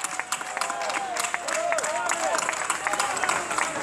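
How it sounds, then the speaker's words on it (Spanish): Crowd applause and cheering for the festival committee at an outdoor village fiesta concert with a live orchestra, a moderate wash of clapping under whoops and voices, with sliding tonal shouts mixed in. "Necesito que suene el aplauso más grande de toda noche para Comisión de Festas."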